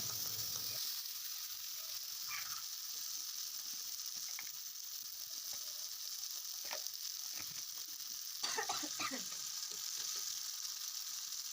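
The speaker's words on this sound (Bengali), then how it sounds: "হলুদও অ্যাড করে দিলাম দিয়ে এবারে নাড়াচাড়া করতে হবে কিছুক্ষণ ধরে" Turmeric and spice masala frying in oil while being stirred, a steady hiss of sizzling with scattered scraping and clicking stir strokes, fairly faint and close.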